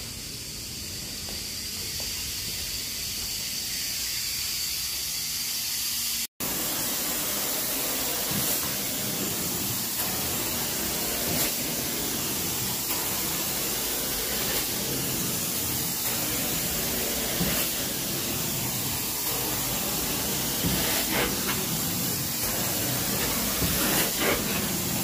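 A carpet cleaning machine's rinse spray hisses loudly and steadily throughout, broken only by one brief dropout early on, with no voices over it.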